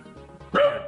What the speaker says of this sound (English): Apologies for my dog wuffing.